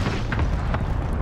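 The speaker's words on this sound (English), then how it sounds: "I have a cluster strike falling on there" Cluster strike bombs landing in a first-person shooter game, a dense rumble of deep booms with a couple of sharper bursts over about a second, loud and close.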